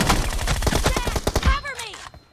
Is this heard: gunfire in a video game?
yes